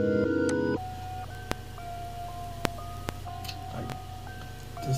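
A lo-fi children's radio preset from the BC-1 Time Traveler plug-in plays a wobbly, tinny music-box-like melody with held tones over a low hum, with a few clicks scattered through it and no voices.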